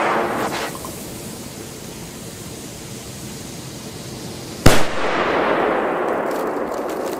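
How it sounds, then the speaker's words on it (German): A Pyro Union P1 firework sound generator with a 16.2-gram black powder pre-burner fires a single sharp, heavy bang, preceded by steady hissy background noise and followed by a rumbling tail. "Ja, für 1 Gramm NEM richtig satter und ordentlicher Knall."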